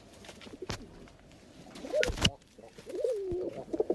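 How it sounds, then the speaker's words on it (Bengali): Pigeons in a loft cooing, several rolling coos rising and falling, with a couple of sharp knocks or flaps mixed in, fairly close and without talk. "এই দেখুন পায়রা দেখুন কেমন"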